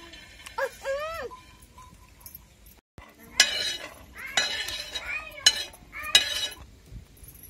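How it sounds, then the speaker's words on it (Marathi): Peanuts being dry-roasted on a griddle, stirred in bursts of metallic clinking and scraping, with quieter stretches between. "तर तवा पण ठेवला आता आणि शेंगदाणे भाजून घ्यायचे आपल्याला।"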